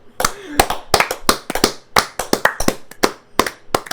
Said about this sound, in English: Let's clap it out.